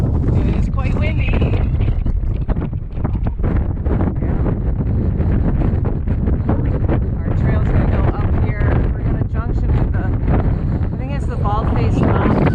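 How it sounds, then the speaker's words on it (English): Strong, sustained wind on a mountain trail near South Baldface buffets the microphone with a loud, constant low roar and gusty rumbling throughout. "It is quite windy."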